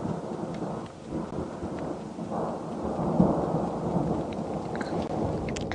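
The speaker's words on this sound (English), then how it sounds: "That's rain." Heavy rain pours steadily on the open savanna during a thunderstorm, with a dense, constant wash of drops and low rumbling thunder rolling through it, close and loud, with no voices.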